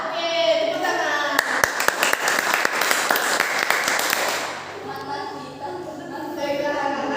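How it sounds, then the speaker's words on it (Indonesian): Children in a classroom clap their hands together in a dense, lively burst for a few seconds, with kids' voices chattering before and after it. "Oke, tepuk tangan."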